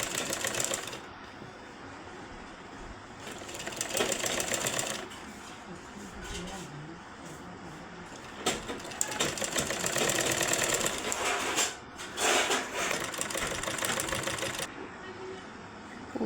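Sewing machine stitching a neck strip on a blouse, a close rapid mechanical whirr in repeated bursts of a few seconds with brief pauses between runs.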